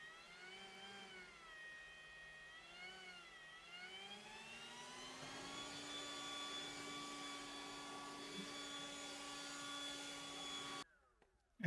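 A Patoolio 650CFM battery leaf blower whirs up from a rising tone into a steady high-pitched motor whine with a rushing airflow roar, held close and loud for several seconds before cutting off abruptly.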